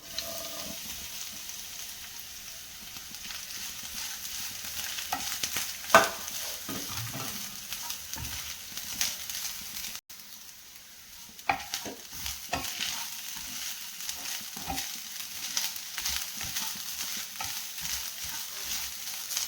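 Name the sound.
coconut and sesame frying in ghee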